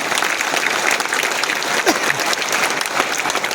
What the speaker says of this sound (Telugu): ఒక్కసారి 2 చేతులు పైకి ఎత్తి గట్టిగా క్లాప్స్ కొడితే మాత్రం మాట్లాడతా